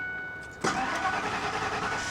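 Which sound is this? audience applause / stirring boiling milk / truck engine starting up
truck engine starting up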